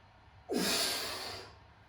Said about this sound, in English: Working with that controlled breathing still.